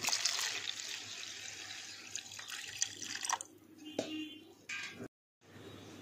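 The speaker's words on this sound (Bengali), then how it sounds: "দিয়ে দেবো হচ্ছে পুদিনা পাতার পেস্ট, আর দিয়ে দেবো পরিমাণ মতন জল।" Water poured into a mango and mint leaf paste mixture for a drink, a faint trickling and splashing that fades to a few drips before a short gap.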